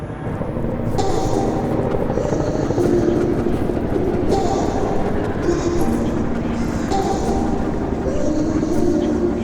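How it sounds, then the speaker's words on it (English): Firefighting helicopter passing overhead, a continuous loud rotor roar with a steady rumbling drone that holds throughout, with no talking. "kind of looks like a firefighting helicopter"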